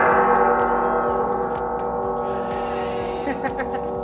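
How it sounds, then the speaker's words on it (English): A large hung steel gong on a workshop workbench struck, ringing with a sustained shimmering metallic tone that slowly decays while further taps and light clatter sound over it. "Take some big gong hits."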